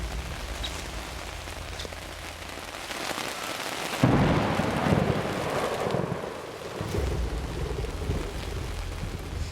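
Heavy rain pours steadily in a flooding storm on high ground shrouded in fog, with rumbling thunder swelling loudly midway and wind buffeting the microphone.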